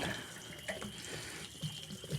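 Water rushing from an opened pressure relief valve on a home water heater, a steady close hiss and splash like a running tap, with brief surges, no voices.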